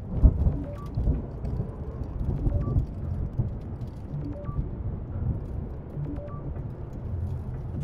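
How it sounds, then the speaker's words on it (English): Thunderstorm on Ganymede in the video game Return to Grace: a steady low rumble of rain and rolling thunder fills the scene, with faint repeated electronic blips above it and no talking. "Thunder's impressive."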